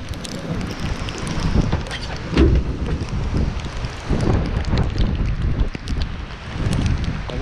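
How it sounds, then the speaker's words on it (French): A squall at sea with 30-knot winds and rain driving into a sailboat during a transatlantic crossing: loud, steady roaring wind buffeting the microphone, with gusty surges and a rushing wash of rain and water throughout. "on est en plein dans un grain, il y a 30 nœuds. Et il pleut dans le bateau"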